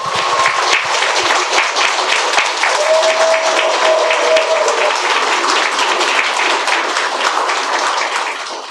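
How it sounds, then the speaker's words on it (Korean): Warm, dense applause from an audience welcoming a priest speaker at a book concert, loud and continuous from start to finish, easing slightly only at the very end. "큰 박수로 환영해 주시기 바랍니다"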